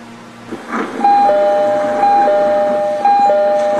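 A Roblox subway train's door chime sounds three times at a steady pace, each a two-tone ding-dong ringing loud and clear over a low hum of the carriage.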